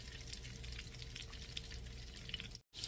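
Pork chops fry in a pan with a soft, continuous sizzle and faint crackles that cut out for a moment near the end and then resume, with no voices.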